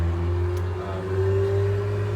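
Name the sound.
loud car passing by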